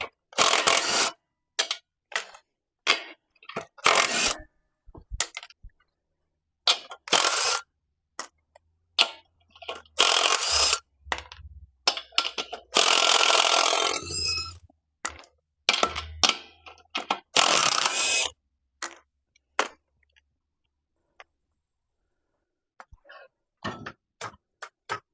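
Tools working on the wheels of a 1961 Rambler chassis give sharp metallic clicks and ratcheting bursts in uneven clusters, close by, separated by pauses of near silence.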